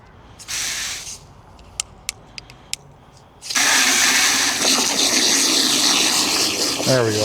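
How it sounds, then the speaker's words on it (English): A few sharp taps, then a loud, steady hiss of high-pressure water from a spray hose washing down an American Clipper RV starts abruptly and keeps rushing, close and continuous, with a brief voice near the end. "I'll come up here with my spray hose and knock the big chunky stuff off"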